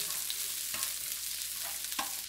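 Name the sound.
chopped onions frying in a pan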